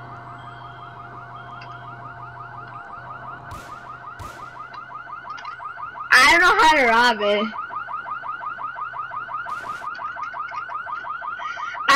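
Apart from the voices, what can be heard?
alarm going off during ATM robbery in Roblox video game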